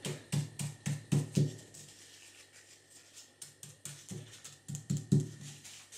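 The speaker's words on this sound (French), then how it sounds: "on prend le papier comme ça et on vient tapoter avec le doigt" A finger taps on a sheet of paper while it is being aged, a quick series of light, dry taps in small irregular clusters, close and quiet with brief pauses between bursts.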